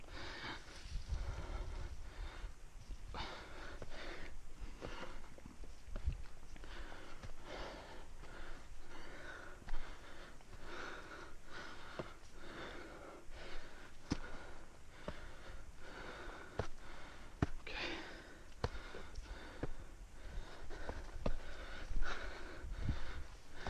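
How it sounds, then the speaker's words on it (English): Heavy, rhythmic breathing from a hiker on a steep trail, loud gasps and exhalations close to the microphone with light wind noise, steady for over twenty seconds. "Hopefully you guys can't hear how hard I'm breathing"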